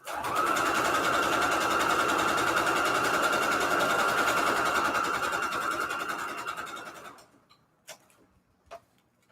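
A sewing machine runs a small straight stitch on default settings across Christmas quilt strips, a fast, even, continuous whirr for about seven seconds before stopping, followed by a couple of faint clicks.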